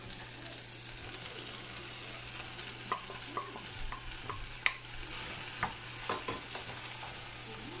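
Mushrooms frying in a pan for a pepper masala, a constant close sizzle with scattered spatula scrapes and taps growing more frequent in the second half, no voices.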